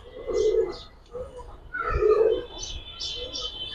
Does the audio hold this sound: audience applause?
no